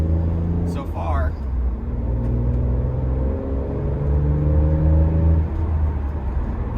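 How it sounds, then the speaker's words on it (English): A Lexus IS300 with a 2JZ engine and Greddy catback exhaust, not yet up to temperature, rumbles steadily and revs gently, its exhaust note surprisingly quiet, with a brief high whine early on. "This car has a Greddy catback on it, but it's like hilariously quiet"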